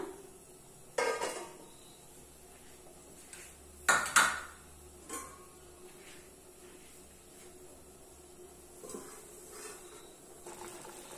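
Lid set down on a pot of chicken soup cooking on a home kitchen stove, giving a few sharp metallic clanks and rattles, loudest in a quick double knock, over a steady low hiss of simmering.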